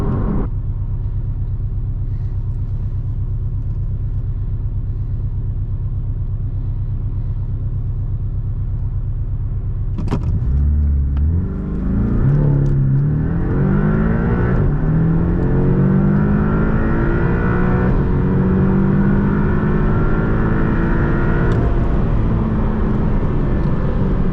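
A 2018 Porsche 718 Boxster accelerates flat out from a standstill in the rain with two aboard, heard from inside: a steady idle rumble, then a sharp jump into a rising engine roar with climbing revs and gear shifts.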